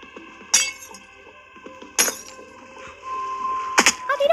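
Glass blocks break in Minecraft with three sharp, bright shattering crashes spaced about a second and a half apart. Each is loud and close, over a steady game background.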